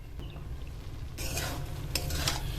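Mixed vegetable and lentil curry cooking in a pan, a low simmering bubble that gives way to scraping stirs with a spatula and bursts of sizzle, close and without talk.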